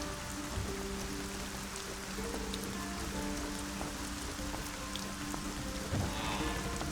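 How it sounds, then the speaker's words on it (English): Steady rain falls in the video game Arcania: Gothic 4, a soft continuous patter with scattered droplet ticks heard alone at moderate level throughout. "Damn rain!"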